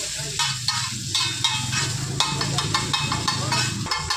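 Eggs are stirred and crumbled in a hot pan with salt and pepper, a steady sizzle with regular scraping strokes of a utensil, close and fairly loud.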